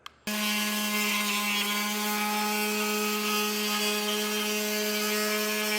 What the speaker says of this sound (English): Now we're going to use a multi-tool to cut this little sliver out.